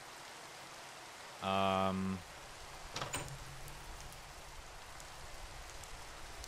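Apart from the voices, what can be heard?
rain falling in the video game SevTech Ages (Minecraft modpack)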